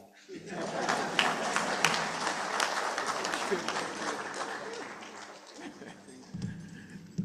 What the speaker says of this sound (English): Let's give Father Mbila a very thunderous applause, please.